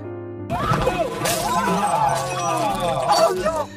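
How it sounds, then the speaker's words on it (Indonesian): A wine glass falls to the floor during a boat scene in a film, a loud crash with clinking, shattering debris spread over a few seconds amid dramatic scene sound and voices. "gelas anggur yang di tangan Joy jatuh ke lantai dan tumpah"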